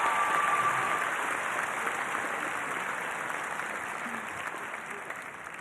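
At a high school commencement ceremony, a large audience gives a round of applause: a broad, steady wash of clapping in a big hall, gradually easing in loudness.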